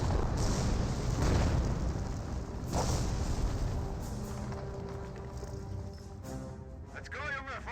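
Artillery barrage explosions in a Company of Heroes match, Wehrmacht against British, with booming blasts rolling in bursts through the first few seconds and fading under continuing battle noise.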